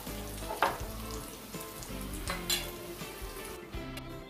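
Steady crackling sizzle of chicken frying in hot oil, with occasional soft clinks and stirring sounds, no talking.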